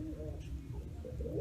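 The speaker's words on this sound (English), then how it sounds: "There's pigeons everywhere." Pigeons coo nearby, giving soft, low, rolling calls that repeat a few times over faint outdoor background noise during dog training.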